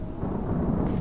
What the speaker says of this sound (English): Was that a clap of thunder?